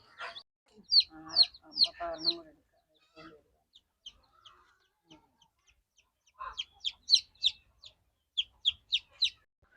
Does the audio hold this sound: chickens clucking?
yes